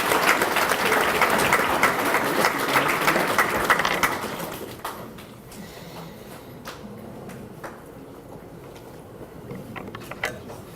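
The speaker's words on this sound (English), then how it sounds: "Let's give Caden a round of applause, please." Banquet audience applauding a scholarship recipient at an annual memorial dinner: full, dense clapping for about four seconds, then a sharp drop to a sparse room where a few scattered claps and small knocks and clatters linger.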